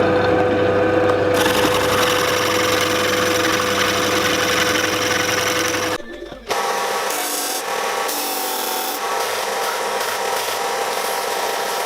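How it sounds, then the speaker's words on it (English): A drill press hums steadily as it cuts half-moon feet into a wooden planter base, then stops briefly before a rougher, uneven rubbing and grinding of the bit against the wood resumes. "I'm just going to do a little half moon shape out the bottom and use the drill press for that."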